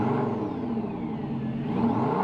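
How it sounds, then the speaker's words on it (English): Revving of a car engine from an exotic car collection parked outside a McDonald's, a smooth, close engine note that climbs and falls gently in a couple of light revs with a steady whirring tone. "Couple baby revs, just little baby rev."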